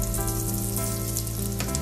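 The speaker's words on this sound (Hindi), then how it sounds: "अब हम इस रगड़ा को, जो मटर है सूखी, उसको छौंकेंगे।" Cumin seeds and asafoetida sizzle in hot oil as a tempering for dried pea ragda, a steady close crackling fry that runs throughout without any talking.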